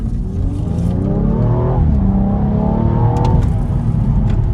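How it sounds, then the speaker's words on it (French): BMW 135i F20 accelerates hard, engine note climbing through the revs, dipping at a gear change and rising again, loud and close throughout. "Et je vous laisse avec une dernière petite accélération"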